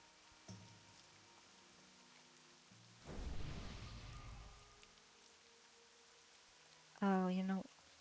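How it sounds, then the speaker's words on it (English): Rain falls in a fantasy online role-playing game, a soft steady hiss of moderate loudness that swells over a few seconds, with other game sounds breaking in around it. "Oh, it's raining."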